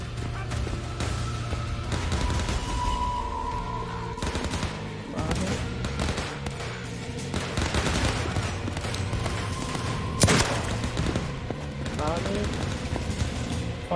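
Gunshots in Overkill's The Walking Dead crackle in dense automatic bursts and scattered single shots, mixed with game music and clatter, while players talk over the loud, continuous action.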